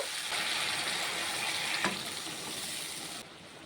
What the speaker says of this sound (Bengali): আলুটাকে মশলার সাথে ভালোভাবে কষিয়ে নিয়েছি, এখন জল দিয়ে দেব